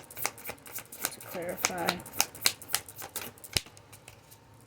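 Tarot cards are shuffled and drawn, producing quick riffling flicks and sharp slaps close by in irregular bursts, with a person talking briefly over them.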